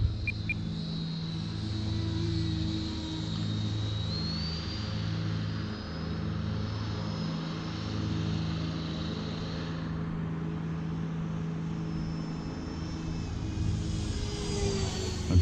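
An E-Flite Viper 70mm EDF RC jet on a 6S battery flies overhead with a steady whining ducted-fan roar, the pitch rising and falling as it passes at moderate distance, with a low rumble underneath and no talking.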